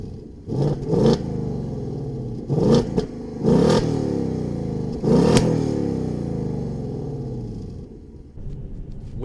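A 2024 Ford Mustang GT S650 with the stock exhaust and no active exhaust, revved in several sharp blips, four or five bursts separated by idle rumble, fairly loud and close, then settling to a steady idle.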